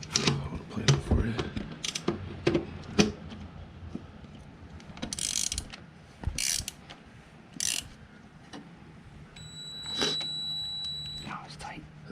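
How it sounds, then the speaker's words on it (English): A wrench tightens bolts on a Lenco electric trim tab plate being mounted on a boat's stern, giving scattered ratcheting clicks and metallic knocks in bursts, with people talking nearby. "Just using a wrench on the back side to hold it."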